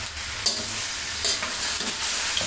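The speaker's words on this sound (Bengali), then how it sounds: "এখন এইভাবে ভেজে নিলেই হবে, নেড়ে চেড়ে ভেজে নিতে হবে" Beef pieces are stirred and fried in a large karahi, with a steady soft sizzle and sharp scraping clinks of a spoon against the pan at irregular intervals, close and without talk.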